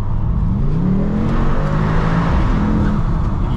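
A Mercedes-AMG GT63s E Performance accelerates hard on kickdown, its engine note climbing steadily in pitch as it pulls through the revs, loud and continuous from inside the car with no talk.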